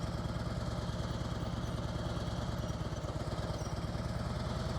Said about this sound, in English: I can hear when the engine is just above shutting down.